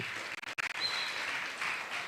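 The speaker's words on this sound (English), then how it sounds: "Please give her another round of applause" Applause from the audience at a primary school graduation ceremony, a steady broadband patter of many hands clapping that holds across the moment with a brief dip near the start.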